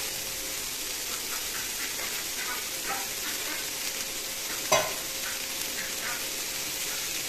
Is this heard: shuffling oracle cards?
no